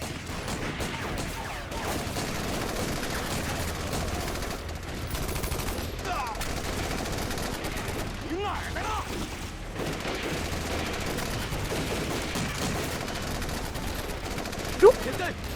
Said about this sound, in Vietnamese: Xạ thủ bắn tỉa, sao ở đây lại có bắn tỉa?